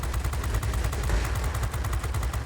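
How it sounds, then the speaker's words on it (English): A Spitfire XVI's 20mm cannons firing in the World of Warplanes game: a loud, fast, evenly pulsing burst of gunfire that hammers on steadily from start to finish. "I'm using my 20mm cannons, letting them cool off, using them"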